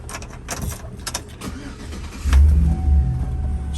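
A 2003 Chevrolet SSR is started up close: a few clicks and the starter cranking, then the engine catches with a loud low rumble and settles into a steady idle.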